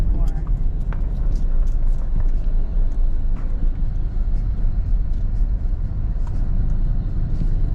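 Toyota Innova 2024 driving along, a steady low engine and road rumble filling the whole stretch, with people talking over it.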